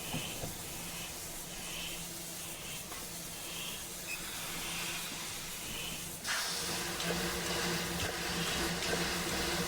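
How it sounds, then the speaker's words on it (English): A simulated steam locomotive, the Empire State Express 999 on the Boston and Albany line, drifts with no steam applied: a continuous broad hiss with faint rhythmic chuffing underneath, which turns suddenly louder and fuller about two thirds of the way through. "Nice sucking sounds when she's just rolling and no steam applied."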